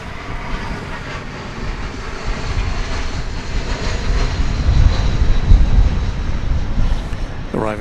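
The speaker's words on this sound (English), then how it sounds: "Arriving from Denver, an Airbus A321, flight 2078." Airbus A321 airliner arriving at DFW Airport, its engine roar steady and swelling louder toward the end as it nears, a broad continuous rumble with no talk over it.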